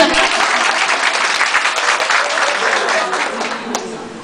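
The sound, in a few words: audience applauding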